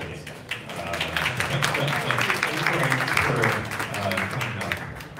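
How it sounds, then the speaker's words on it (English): A conference audience breaks into applause, a dense spread of clapping that holds steady for several seconds, with voices faintly mixed in. "Yes, round of applause for Greg and also appreciate it"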